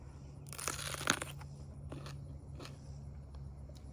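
A thick-walled, crunchy, home-grown bell pepper is bitten into raw: a close, crisp burst of crunching early on, then a few fainter crunches and chewing over a steady low hum.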